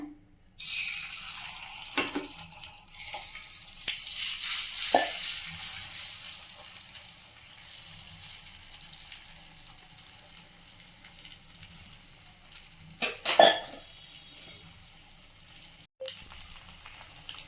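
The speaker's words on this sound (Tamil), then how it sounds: "இன்னும் கொஞ்சமாக ஆயில் ஊற்றி முட்டை ஊற்றிக்கலாங்க" Steady oily sizzling of an egg frying in oil in a hot pan, with a few louder crackling bursts rising and fading over the continuous hiss.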